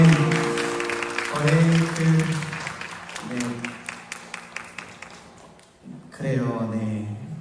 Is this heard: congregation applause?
yes